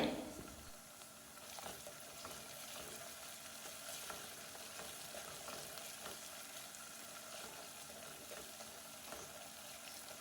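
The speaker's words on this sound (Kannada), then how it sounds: "ಈಗ ಬೆಳ್ಳುಳ್ಳಿ ಮತ್ತು ಶುಂಠಿ ಫ್ರೈ ಆಗಿದೆ" Garlic and ginger fry in a pan for a fish pickle, a faint, steady sizzle and crackle running evenly throughout with occasional stirring sounds.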